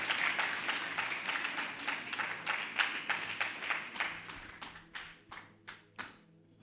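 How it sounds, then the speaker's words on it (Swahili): A church congregation breaks into a burst of applause, dense overlapping clapping that thins toward the end into a few scattered, separate claps; no distinct ululation stands out clearly above the hands. "Tunaweza tupigie makofi na vigelegele."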